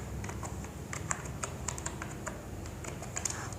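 Fingers type quickly on a laptop keyboard, producing a close, steady patter of light key clicks with a few sharper taps mixed in, with no voices.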